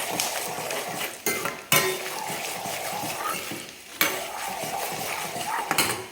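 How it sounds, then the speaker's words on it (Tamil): A spoon stirring salt into curd rice in a metal vessel, heard as close clinks and scrapes with brief pauses between bursts of mixing. "அதுக்கு உப்பை வந்து இதிலே போட்டு நம்ம வந்து கலந்துக்கலாம்"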